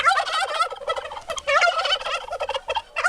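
A person mimics wild turkey gobbles with the voice, a loud, rapid, rattling run of throaty yelps that repeats in bursts with brief pauses between.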